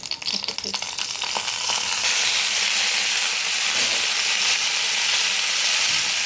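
Boiled potatoes frying in oil in a wok, a steady loud sizzle and hiss that swells after the first couple of seconds and holds continuously, with a few faint utensil clinks early on.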